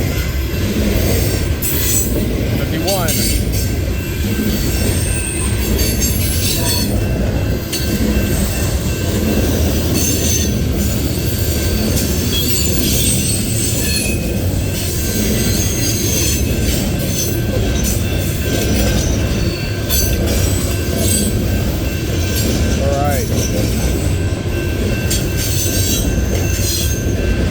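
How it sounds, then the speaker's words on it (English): A long CSX freight train rolls past close by on the old B&O main line, loud and continuous, with rumbling wheels, clanking cars and occasional squeals; a voice speaks briefly. "the train should be heading over here by now"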